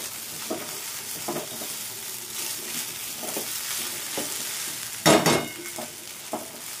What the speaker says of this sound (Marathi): मला 2 ते 3 मिनिटं फ्राय करून घेणार आहे